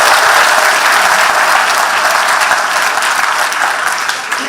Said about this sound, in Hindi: तो जरा ताली वाली बजाओ, आगे बढ़ो।